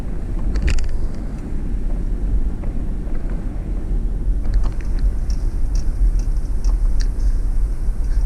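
Steady low rumble of an Ineos Grenadier off-road vehicle creeping down a gentle hill in low range with no pedal input, plus light wind buffeting, with no voices.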